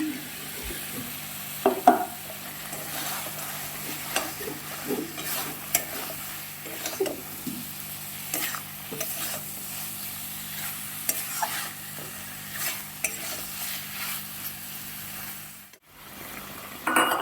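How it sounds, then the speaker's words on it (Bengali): Sautéed vegetables for a mixed paneer dish stirred in a pan with sugar and salt, a steady soft sizzle under repeated scraping stir strokes, close and fairly quiet, no talking. "এর মধ্যে আমি কষে রাখা সবজিগুলো দিয়ে দিচ্ছি"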